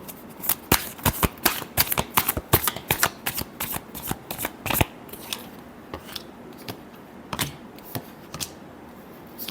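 Tarot cards being shuffled, a rapid series of crisp riffling slaps and flutters in uneven bursts, close and dry, thinning out toward the end with a few scattered taps.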